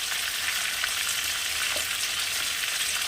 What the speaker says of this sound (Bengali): পটলটাকে ভালো করে একটু ভেজে নেব